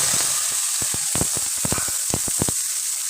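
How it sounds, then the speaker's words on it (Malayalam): Onion and dried red chilli frying in hot oil with mustard seeds, a continuous bright sizzle broken by a quick run of sharp pops and crackles. "കടുകിട്ട് പൊട്ടുമ്പോൾ നമുക്കാണെങ്കിൽ അതിനകത്തോട്ട് നമ്മളെടുത്ത് വെച്ചിരുന്ന ഉള്ളി, ഒരു വറ്റൽമുളക്"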